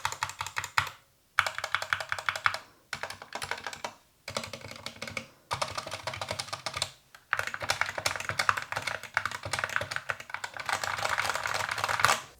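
Typing on an Epomaker SK61 hot-swappable optical mechanical keyboard, with bursts of clacky keystrokes separated by short pauses, close and crisp, with no talking.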